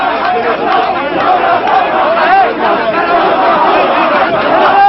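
A large agitated crowd surrounds Yasser Arafat as he departs, a loud continuous swell of shouting and chanting voices close by, with rising cries and overlapping chatter filling the whole stretch.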